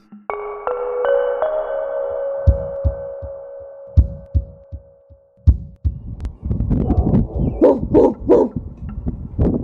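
A person imitates a dog, with a sustained whine followed by rapid thumping pants and a string of barks and yelps.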